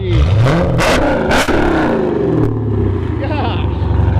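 A cammed Dodge Charger SRT8 with a Borla ATAK exhaust revs hard nearby, its loud, choppy idle rising into sharp throttle blips before settling back to a lumpy rumble.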